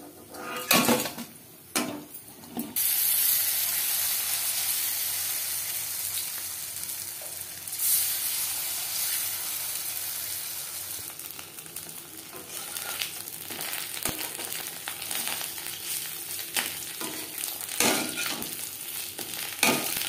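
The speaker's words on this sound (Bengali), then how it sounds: "প্রত্যেক ব্যাচের উচ্ছে একইভাবে ভেজে নেব।" Slices of bitter gourd fry crisp in hot oil over a medium flame. A steady, bright sizzle is broken by clanks of a utensil and pan as the slices are turned and lifted out.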